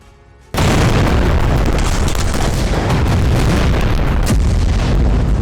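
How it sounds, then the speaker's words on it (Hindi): A sudden massive explosion erupts after a brief quiet moment, followed by a sustained loud roaring rumble that fills the rest of the clip; the first of three blasts near Al-Shifa Hospital in Gaza. "पहला धमाका"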